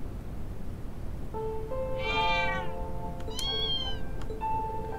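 Cats meow in the video game Trails of Cold Steel II, a mother cat and her kitten heard as a few distinct rising mews, one longer and two shorter, over a steady low ambient hum.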